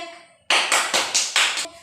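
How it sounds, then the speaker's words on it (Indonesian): A primary-school class claps for a pupil who has just finished reading aloud: a short, loud burst of quick, close hand claps that starts abruptly after a quiet moment and runs in uneven pulses. "Tepuk tangan buat Diki."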